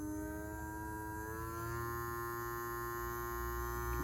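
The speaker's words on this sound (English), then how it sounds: "So you can hear the motor running, I think." A steady electric motor hum with a low buzzing drone, continuous and fairly quiet, holding an even pitch with no voices.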